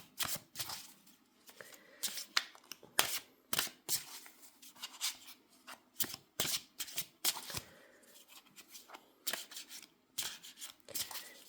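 Oracle cards being shuffled for a tarot reading, a run of crisp riffling and slapping bursts repeating irregularly for several seconds, close and fairly quiet with no talking.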